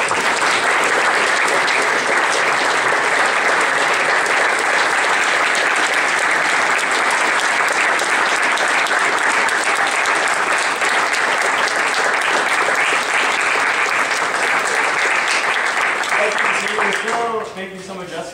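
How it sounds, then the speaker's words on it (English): A large audience claps loudly and continuously for an amputee walking on a prosthetic leg at a presentation event, a sustained dense roar of applause that fades near the end. "Let's give him a big round of applause."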